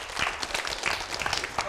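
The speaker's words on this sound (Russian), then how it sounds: "Аплодисменты." A live audience bursts into applause at a youth business event, a dense, moderately loud patter of many hands clapping continuously with a faint murmur of voices.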